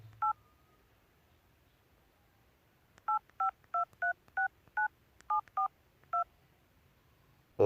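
A telephone keypad dials a Ufone card load code: one isolated tone, a pause of nearly three seconds, then a brisk run of nine clear, evenly spaced beeps, each a short pure tone, heard alone against a quiet background.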